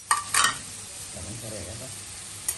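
Shrimp tipped into a hot pan with chili, two quick bursts of crackling sizzle and clatter at the start, then a low frying hiss with muffled background sounds and another brief crackle at the end.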